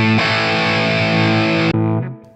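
A guitar played through a Tonex One on its pushed 800 amp preset rings out as a loud, heavily distorted sustained chord, then a second, shorter distorted chord that fades out.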